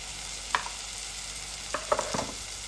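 Chili powder and spices are stirred into a crab curry in a pan, giving a low, steady sizzle with a few short scraping clicks of the spoon near the end and no talking.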